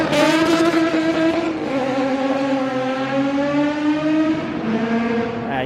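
A turbocharged Nissan 370Z with Z1 headers on its VQ engine revs hard on a dyno, a loud, steady, rising exhaust drone with a brief dip partway through before climbing again, heard alone with no talking.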